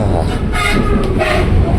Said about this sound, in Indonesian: itu ada KRL ini, KRL CRRC.